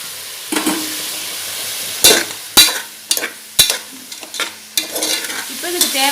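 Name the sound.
mushrooms, onion, tomato and ginger-garlic paste frying in a pan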